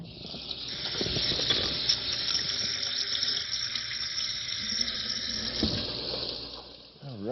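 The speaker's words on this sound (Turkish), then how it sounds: "Tavuğa bulanan elimi yıkamalıyım." Steady rushing water from a tap runs throughout, with faint splashing and rubbing as chicken-coated hands are washed beneath the stream.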